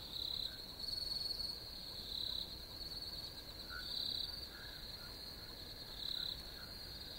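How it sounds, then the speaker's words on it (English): High-pitched insect trilling in pulsing bursts, several crickets chirping together in a quiet outdoor night, faint and steady. "The chirping of crickets"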